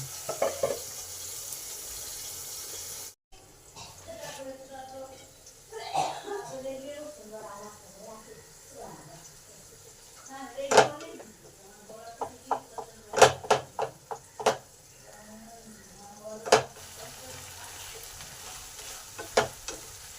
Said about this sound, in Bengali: এবার এই শাকটাকেও ভালো করে এর সঙ্গে মিশিয়ে নেব